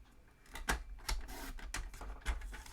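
Cutting a quarter inch off a card for a slim line card, a series of sharp, quiet snips and taps in an otherwise hushed room.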